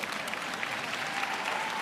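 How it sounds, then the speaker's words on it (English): An audience claps together in a steady, dense burst of applause that fills the room evenly from start to finish, with no voices rising above it. "somebody ought to clap on that"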